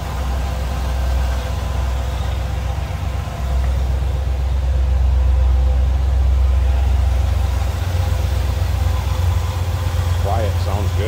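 A numbers-matching 350 V8 in a 1971 Chevrolet Corvette coupe idles smoothly and steadily up close, a continuous low rumble that stays even throughout with no revving.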